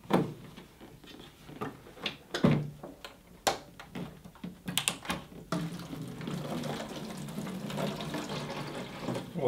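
Coolant drains out of a PC water-cooling loop through a tube. Scattered small clicks and knocks come first, then a steady, soft rushing flow for the last few seconds, close by and fairly quiet.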